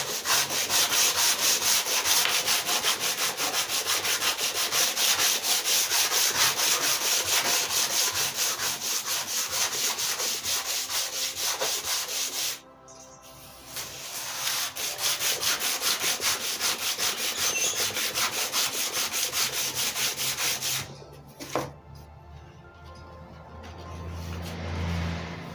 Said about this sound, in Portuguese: Agora a lixa de 150.